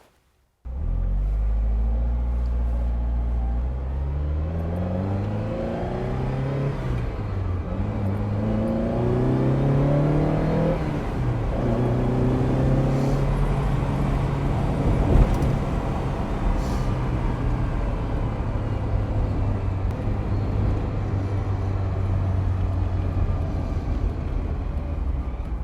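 A Ferrari 308 GTS starts off and drives, its engine note climbing through several rising revs and gear changes before settling into a steady, loud cruising drone, with no talk.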